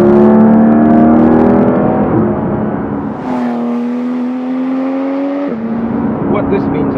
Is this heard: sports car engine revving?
yes